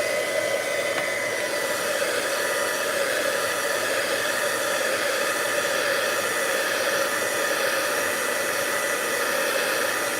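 A hair dryer blows on wet, curling watercolor paper, a loud, steady close-up roar and hiss running unbroken throughout with no speech.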